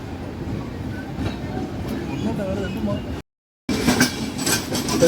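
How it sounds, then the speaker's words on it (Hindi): A passing train heard from inside a Kerala Express sleeper class coach: steady rumbling rail noise with clatter from near to mid distance and a brief gap of silence. Someone talks over it. "कोई तो ट्रेन है, कौन सी ट्रेन है पता नहीं, लेकिन ज़बरदस्त रस है इस ट्रेन में।"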